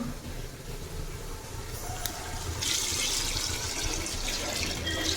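Water pours steadily into a pot of mutton and rice being cooked for biryani, a continuous close splashing stream that grows fuller and louder partway through.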